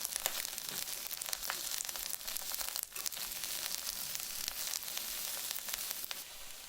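Vegetarian bulgogi meat, already crisp, frying in a hot pan with a steady close-up sizzle and crackle throughout, plus occasional stirring scrapes.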